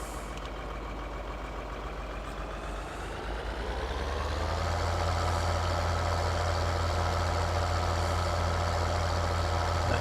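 A tractor engine idles in the farming game Farming Simulator 2013, a steady low mechanical drone that grows louder and fuller about halfway through and then holds evenly to the end.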